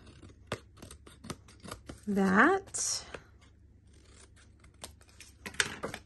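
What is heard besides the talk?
scissors trimming paper for a card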